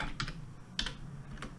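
Typing on a computer keyboard, a few soft clustered keystrokes in three small bursts, quiet and close, with no talking.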